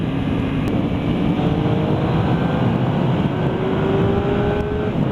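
Engine of a 2013 Triumph Speed Triple motorcycle pulls hard under acceleration during a ride, a loud, steady drone with rising engine tones mixed with heavy wind rush against the microphone.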